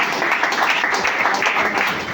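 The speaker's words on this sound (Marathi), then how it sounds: "तर दाभाडे सरांसाठी एकदा जोरदार टाळ्या पडल्यात" Audience applause for Dabhade sir at a direct-selling business event, a steady wash of clapping that fills the whole moment at moderate loudness with no pauses.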